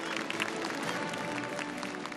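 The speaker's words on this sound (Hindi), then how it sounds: "आप सभी लोग पहले तो जोरदार तालियों से नितिन गडकरी जी का स्वागत करिए" A large audience at the TV9 WITT 2025 summit gives dense, continuous applause to welcome Union minister Nitin Gadkari, a steady wash of many clapping hands heard from a distance.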